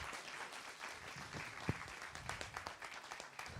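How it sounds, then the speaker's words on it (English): An audience at an evening postdoc research showcase applauds a named winner, a faint, steady patter of clapping with one louder clap. "Round of applause, everybody."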